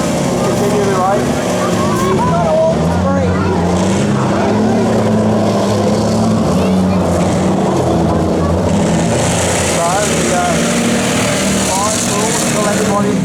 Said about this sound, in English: All four engines still running and running quite well.